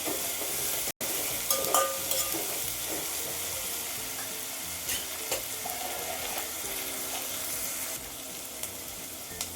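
Fresh mint leaves fry in oil with ginger-garlic paste for a thalcha served with Dindigul thalapakatti biryani, giving a steady close sizzle broken by scraping, clinking stirs of a spoon in the pan, with no talking.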